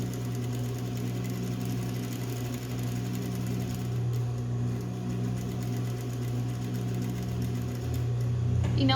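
A sewing machine runs a continuous seam along the edge of fabric without backstitching, a steady close mechanical whirring hum that holds throughout with no pauses.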